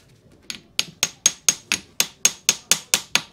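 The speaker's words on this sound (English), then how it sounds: "Once we give it a little tap with a hammer," A hammer taps a copper cable lug during a football stadium electrical supply upgrade, striking about eleven times in a quick, steady rhythm, each hit bright, metallic and close.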